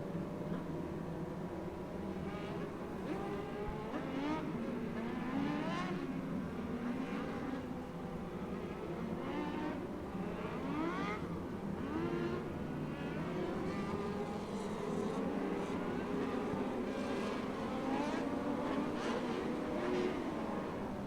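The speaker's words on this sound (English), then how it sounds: "Jace DeMint spinning out in contact with the infield tire over in turn number 2" Race cars lap a PortCity track during an A Class feature race, a steady, fairly distant engine drone with whining, shifting tones that rise and fall continuously with no break.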